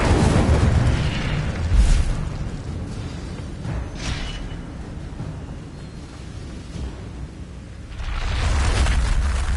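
In the Hogwarts Legacy video game, the Incendio fire spell bursts with a booming, whooshing explosion, followed by rumbling rushes that rise and fall and a second surge near the end.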